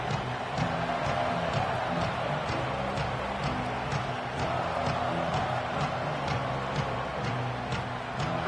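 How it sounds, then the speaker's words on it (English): A college football stadium crowd before a Georgia game roars steadily throughout, a dense continuous wash of voices and rumble holding at a constant level with faint repeating band-like tones underneath. "This crowd ready to make its presence known."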